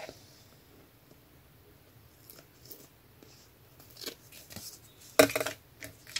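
Scissors snip through a vintage scrapbooking card in a few quiet cuts and rustles, ending with a louder crisp snipping burst near the end. There is no speech.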